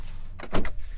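A power sliding rear window glass on a 2026 RAM 2500 Laramie pickup truck hums briefly as its electric motor moves the pane, a short soft whir of under a second in a quiet cab.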